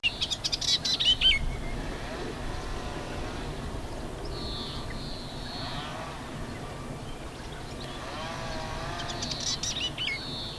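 Olivaceous warbler singing on Lesvos, a few faint, scratchy high-pitched song phrases at a distance over a steady background hum, with no voices.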